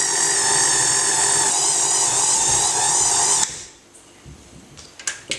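Electric stand mixer kneading pizza dough at low speed, a loud steady motor whine with harmonic hum running for about three and a half seconds before cutting off, leaving quiet room noise and a few faint clicks.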